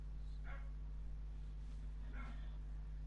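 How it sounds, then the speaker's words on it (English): A dog barking in a game scene from The Last of Us Part 2, two short yelping barks at moderate distance over a steady low hum, no talk. "Sorry for my loud ass dog."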